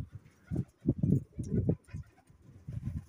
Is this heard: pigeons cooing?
yes